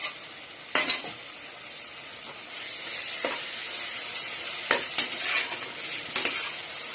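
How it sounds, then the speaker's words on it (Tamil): Yogurt sautéing in a pan for chicken biryani, a steady broadband sizzle with several sharp stirring scrapes of a utensil against the pan, close and continuous with no voices. "அதுக்கப்புறம் 100 ml தயிர் போட்டுக்கோங்க. அதையும் நல்லா வதக்குங்க."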